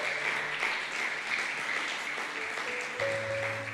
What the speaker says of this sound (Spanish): Usted aplaude y le da gusto.